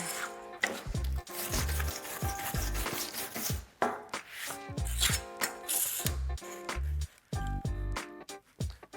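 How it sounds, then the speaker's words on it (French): Two-millimetre aluminium sheets are wire-brushed clean before TIG welding: uneven bursts of close, scratchy scrubbing strokes with short pauses and occasional clanks of the metal. "je vais brosser mes tôles pour les nettoyer"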